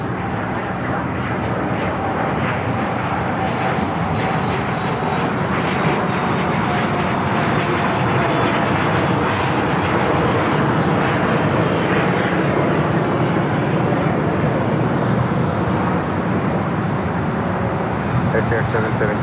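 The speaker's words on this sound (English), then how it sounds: "runway 25 right, clear for takeoff." A large jet airliner takes off from runway 25 right at LAX, its engines making a loud, steady roar that holds through the whole stretch, with voices heard faintly underneath.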